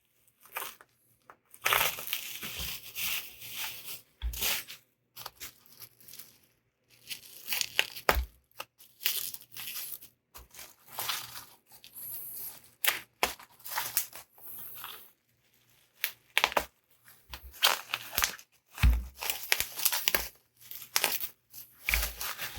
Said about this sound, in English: And more bubble wrap.